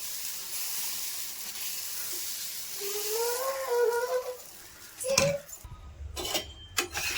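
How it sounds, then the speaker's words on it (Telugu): Dosa batter sizzles on a hot pan with a steady broadband hiss, while metal scrapes and clatters from a spatula or utensils join partway through, close and moderately loud. "నేను ఇంకో దోశ వేస్తున్నాను"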